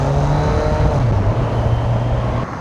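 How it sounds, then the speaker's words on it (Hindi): A Kawasaki Versys 1100 inline-four motorcycle idles along in first gear at about 1000 rpm, a smooth, steady low engine hum with a faint whine on top and some wind rush, loud and close, fading slightly at the end. "1000 RPM पे चल रही है पहले गियर में, अब बहुत स्मूथ।"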